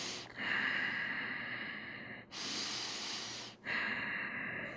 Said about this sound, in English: But just stay here, just breathe.